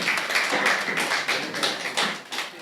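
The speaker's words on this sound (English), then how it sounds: "Please, let's jam our hands together for them" A debate competition audience in Nigeria claps hands for a school team, steady overlapping claps close by, with rhythmic swells of louder bursts continuing throughout.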